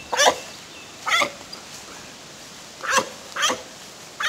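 A pitbull barks in five sharp, separate bursts with short gaps between them, close and loud against a quiet outdoor background.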